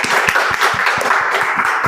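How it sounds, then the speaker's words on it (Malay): An audience at an Indonesian talk-show-style interview with the cast of the film Blood Brothers: Bara Naga breaks into applause, a dense run of claps with regular sharp hits throughout. "Tepuk tangan dulu dong guys."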